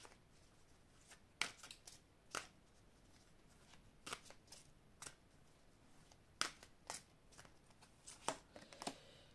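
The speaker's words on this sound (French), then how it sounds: "Alors, je vais vous prendre deux cartes conseils." Oracle cards are drawn from a deck, producing soft papery flicks and snaps scattered irregularly across quiet close-up handling, faint and intimate, with no talking over them.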